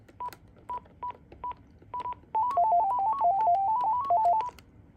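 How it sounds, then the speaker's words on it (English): A Panasonic KX-TG1062 cordless phone plays a ringtone: a few short single beeps, then a quick warbling melody of alternating electronic tones, close and clear. "The ringtones are kind of strange. They're really just 2 tones, but with 3 different frequencies for each one."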